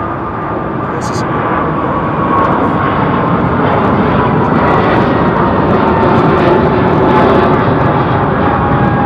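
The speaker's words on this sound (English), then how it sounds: "we have a Max 9 taxiing for departure" A Boeing 737 Max 9 airliner taxis for departure at London Heathrow, its engines giving a steady, loud, continuous roar throughout, with people talking over it.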